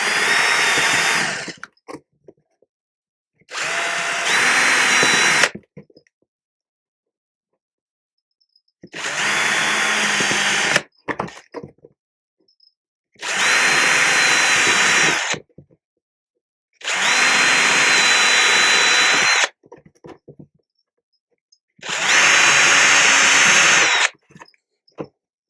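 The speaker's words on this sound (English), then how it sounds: "Plus the fact I can see my step drill." A power drill with a step bit whirs in six separate bursts of a few seconds each through a spider enclosure, with silent pauses between, loud and close.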